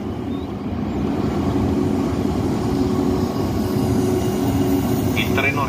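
A regional train from Poggio Mirteto to Fiumicino Airport pulls into platform 5 at Roma Tiburtina station, a loud, steady rumble that builds and then holds, with faint higher rattles near the end.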